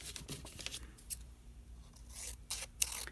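Scissors snip through a handmade paper stencil, a few quiet crisp cuts separated by pauses, close and faint against a soft room background.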